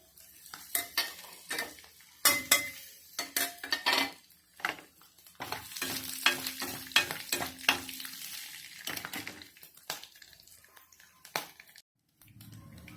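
Cinnamon, cloves and cumin fry in a pan with a soft sizzle. A utensil stirs and scrapes against the metal in irregular clinks and scuffs, with short quiet gaps between bursts.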